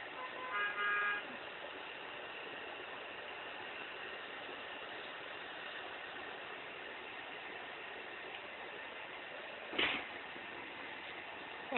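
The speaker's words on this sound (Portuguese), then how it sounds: "Os carros passando na rua, as pessoas." Street traffic outside a window, a steady faint wash of passing cars with a short honk near the start and a louder burst near the end.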